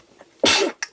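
A single loud, abrupt sneeze bursts out close by in an otherwise quiet room, followed a moment later by a brief, fainter catch of breath.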